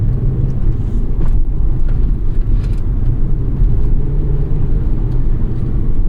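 A 2004 Volvo S60R drives through corners, with a loud, steady engine drone and road rumble heard from inside the car and a few faint clicks over it.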